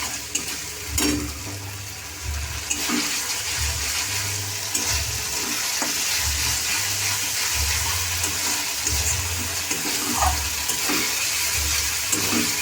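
Curry frying in oil in a pan, a continuous close sizzle with repeated rhythmic stirring and occasional clinks of the spoon.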